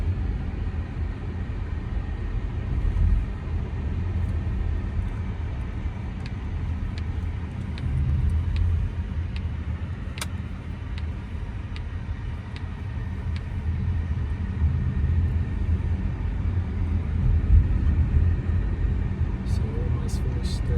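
Polestar 4 electric car accelerating briskly to about 50 mph on a space saver spare wheel, heard from inside as a steady low road rumble and tyre roar that builds slightly with speed.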